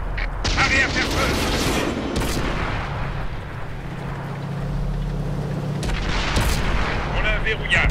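A tank cannon fires in World of Tanks, with several deep, loud booms and crackling blasts spread across the stretch. They sit over a low engine drone, and a voice speaks briefly among them.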